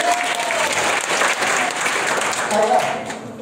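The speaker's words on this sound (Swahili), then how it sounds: "Aya, tupigie mama shule makofi mazuri." Loud, continuous crowd applause rises for a school head at a Murang'a community gathering in Kenya, steady and full throughout before easing off at the end.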